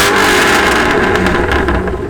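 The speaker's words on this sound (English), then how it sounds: "Give her a rev." A Ford Mustang GT V8 with a custom supercar-style exhaust revs loudly and steadily up close, its dense roar holding for about two seconds before easing slightly at the end.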